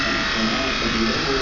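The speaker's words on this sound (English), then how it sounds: "that's briefly how you clip her body" Electric clippers buzz steadily and up close while clipping a cow's body hair against the grain, a continuous motor drone that holds for the whole moment; a person talks over it.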